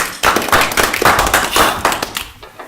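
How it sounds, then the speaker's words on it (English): Audience applause at a live mind-reading show, a dense burst of many hands clapping nearby, loud and sustained for a couple of seconds before tapering off. "Let's give him a little round of applause."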